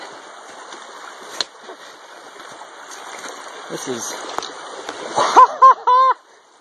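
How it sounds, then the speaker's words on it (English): A runner wades across cold Seneca Creek in West Virginia during a 50K mountain trail race, with steady close rushing and splashing water throughout. Someone speaks briefly near the end, over the flowing creek. "Time to cross Seneca Creek again."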